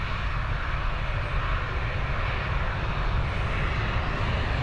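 Airliner climbing away after takeoff from Dublin Airport, a steady, loud jet engine roar that fills the whole clip without pause and with no voices over it.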